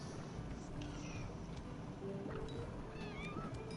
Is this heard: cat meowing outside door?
yes